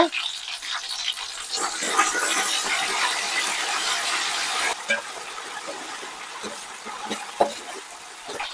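Mint and coriander leaves cook in hot oil in a pan while chicken biryani is being made, giving a steady hiss and sizzle with small crackles and pops throughout.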